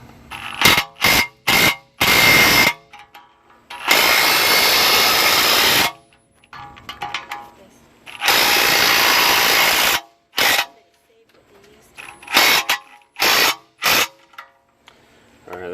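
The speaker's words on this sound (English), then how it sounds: "we're going to try to press it out" A ball joint press tool strains against the lower ball joint on a 2002 Mercury Sable, giving loud bursts of grinding and whirring power-tool noise, some short and some lasting about two seconds, with brief gaps between them.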